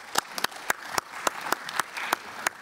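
A small conference audience at a rural development session claps, with sparse, distinct individual claps in an uneven rhythm that stays moderately loud.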